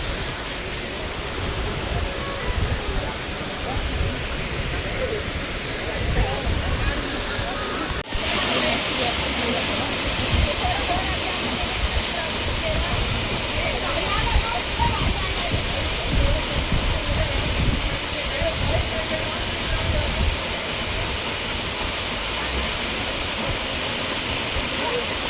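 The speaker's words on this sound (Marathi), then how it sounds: "बघा काही आता आम्ही आलोय धबधब्याखाली." Kalu waterfall near Pune pours in a steady, dense roar close by, a continuous broadband wash of falling water that never lets up, with voices faintly present beneath it.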